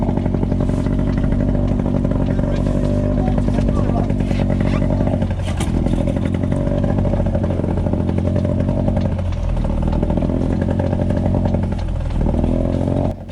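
A loud, steady boat engine drone with rattling, clattering bursts and surging changes in pitch as the propeller cavitates out of the water at sea, continuous throughout.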